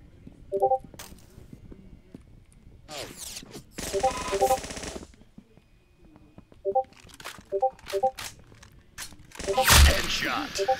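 Gunfire in a Roblox Arsenal 1v1 match: short bursts of sharp shots scattered among game effects and beeps, with a loud impact near the end, and people talking throughout.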